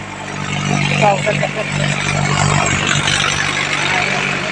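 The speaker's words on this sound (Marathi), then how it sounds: "आलेला आहे ट्रॅक्टर आणि तुम्हाला दिसत आहे ट्रॅक्टर आलेला आहे" A tractor engine idles with a steady low mechanical hum in a farm field where sugarcane furrows are being made, while someone talks over it close to the microphone.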